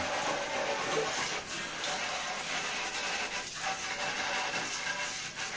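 Running water rinses a dusty, blackened fan grille from a Hatari fan, a steady loud broadband gush and splash that continues without a break from start to finish.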